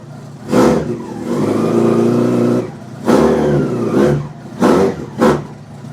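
A 2009 motorcycle, still cold, idles with a loud close rumble and is blipped several times, three or four distinct revs rising and falling, one long sustained pull then shorter quick bursts.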